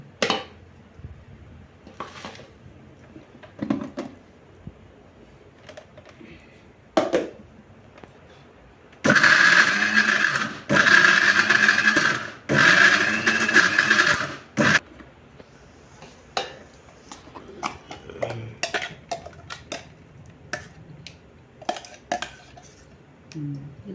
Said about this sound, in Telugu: రెండు మిక్సీ పట్టి